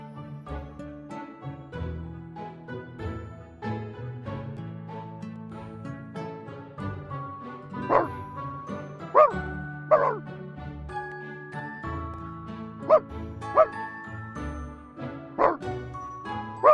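A small uneasy puppy in the video game Pickle Journey yips and barks in short repeated bursts over soft tinkling game music, fairly close and moderately loud.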